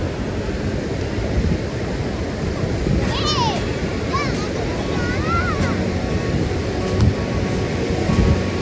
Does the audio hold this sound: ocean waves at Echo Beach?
yes